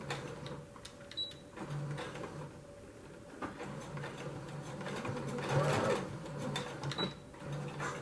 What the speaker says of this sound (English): I'm going to back stitch over the elastic a couple of times.